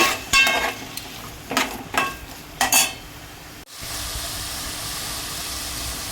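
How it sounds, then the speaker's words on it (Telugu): Taro root (chamadumpa) frying in a pan, with a few clattering stirs against the metal early on, then a steady, continuous sizzling hiss for the last couple of seconds. "దీన్ని నిమిషాలు వేగాలి."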